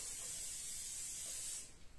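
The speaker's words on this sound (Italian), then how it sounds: "Lo vado ad imburrare e infarinare, voi come ben sapete, con il mio spray staccante" Non-stick release spray is sprayed into a 26 cm cake tin as one steady, close, airy hiss lasting over a second and a half, then it stops abruptly.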